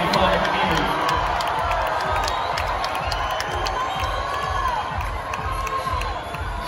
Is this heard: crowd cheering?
yes